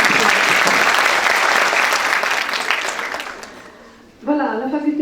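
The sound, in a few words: audience applause at a conference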